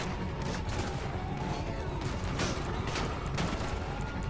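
Dense, continuous bursts of heavy gunfire from a mass shooting spree in GTA 5 Online, rapid volleys running without pause at steady loudness.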